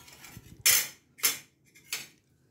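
Spices are dropped with a metal spoon into a pan of greens, giving three sharp clinks and taps at a steady spacing, close and clear, with quiet faint rustling between them.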